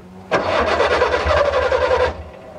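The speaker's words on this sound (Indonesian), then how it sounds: "Dan kalau kita mau menyalakan mesin, ini coba kita nyalakan" A 1981 Suzuki Jimny LJ80V with its small 800 cc engine cranks and catches, then runs with a steady rough chugging for about two seconds before cutting off, loud and close.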